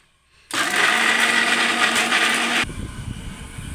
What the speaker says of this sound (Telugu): మెత్తగా మిక్సీ పట్టుకోవాలి